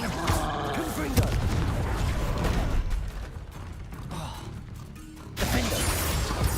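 A Confringo fire spell blasts in Hogwarts Legacy, a fiery burst amid creaking, mechanical game effects and rumbling impacts, layered under a voice calling out spell names.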